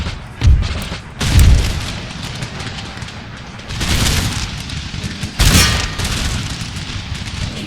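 Musket volleys and artillery booms from the Empire: Total War video game battle for Amsterdam, heavy blasts at irregular intervals over a constant rumbling crackle of distant gunfire, loud and without talk.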